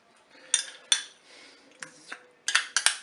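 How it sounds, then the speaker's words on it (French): A metal utensil scrapes and clinks against the inside of a Cookeo pot while stirring spaghetti with tomato paste, in a few irregular bursts of sharp knocks and scrapes, close and fairly quiet. "je vais mélanger mes ingrédients"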